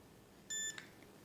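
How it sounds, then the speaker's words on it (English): A Mini Educator 300 e-collar receiver gives one short, clean electronic beep, followed by a faint click in an otherwise quiet room. "So there's a beep"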